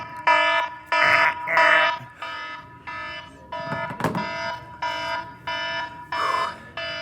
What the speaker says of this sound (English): It's a lot better than that horrible alarm that goes like this.